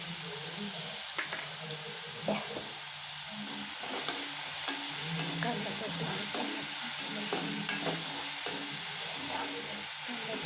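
Okra fries in oil in a pan, giving a steady, close sizzling hiss with scattered pops and stirring scrapes across the whole stretch.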